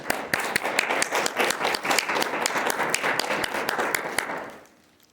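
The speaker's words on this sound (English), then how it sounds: "Let's give David a round of applause." An audience at an evening talk on stigma in the media breaks into loud, sustained applause, with dense overlapping claps for about four seconds before it fades out quickly.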